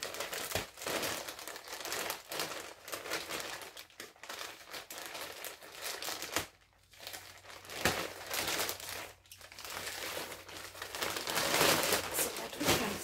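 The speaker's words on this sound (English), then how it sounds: "I'm going to cut this open." A plastic shipping package holding shoes and bags is cut open, giving continuous close crinkling and crumpling of plastic with brief tearing, steady and fairly loud with a short pause partway through.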